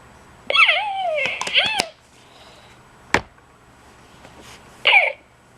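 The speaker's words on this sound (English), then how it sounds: "there's the cough." A few brief, squeaky, electronic-sounding coughs from a RealCare Baby simulator doll, a burst at the start, then isolated ones later, with soft clicks between.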